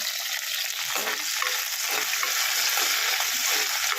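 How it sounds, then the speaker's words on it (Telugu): Green chillies and garlic fry in oil in a pan with a steady, close sizzle and faint crackles throughout, with no talking. "పచ్చిమిర్చి, ఎల్లిపాయ వేయించుకుంటున్నాను"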